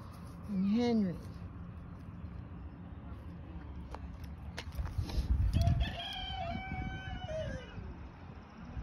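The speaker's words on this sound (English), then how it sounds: "That's a rooster." A rooster crows loudly near the start, then a second, longer crow follows later over a quiet farmyard background.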